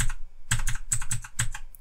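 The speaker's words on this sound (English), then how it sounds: "Press S on my keyboard." A computer keyboard clatters with a quick burst of key presses, roughly eight sharp clicks in an uneven rhythm after a brief opening tap, close and clear with no voices.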